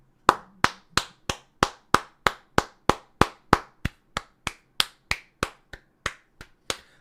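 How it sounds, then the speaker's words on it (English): A single person claps by hand, about twenty sharp, close claps in an uneven rhythm, each crisp and distinct with short gaps between, no talk. "I'm trying to give you an uncoordinated clap."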